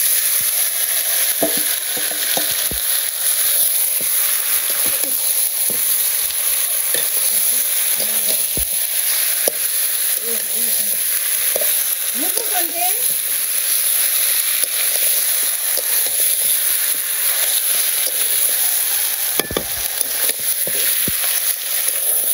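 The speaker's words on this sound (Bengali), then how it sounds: "মাংসগুলো দিয়ে দিই" Meat fries steadily in a pan in a village kitchen, with a constant sizzle and the scrape and clatter of stirring throughout, close and fairly loud, with no talking.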